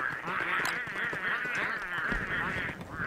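Pengulls from the video game Don't Starve squawk in a loud, continuous chorus of honking, goose-like calls that overlap without a break.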